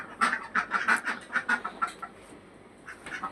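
A few farm chickens cluck in quick bursts, close and fairly clear, in an irregular rhythm with a brief pause near the end before the calls resume.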